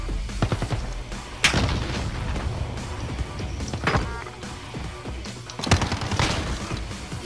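Repeated gunfire in Call of Duty: Modern Warfare multiplayer, sharp shots and bursts cracking out over a dense, noisy background, with three especially loud blasts standing out.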